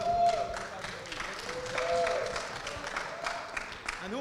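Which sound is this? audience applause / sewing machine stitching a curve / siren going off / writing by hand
audience applause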